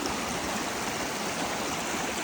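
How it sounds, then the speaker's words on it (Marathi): A clear mountain stream pours down from above beside a high road between Padum and Leh in Ladakh, a steady, close, broadband rush of water that continues unbroken and alone. "ते वरतून पाणी येतो स्वच्छ."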